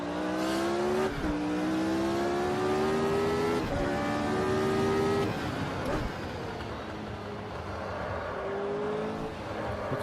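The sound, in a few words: Formula Retro race car engine in Automobilista video game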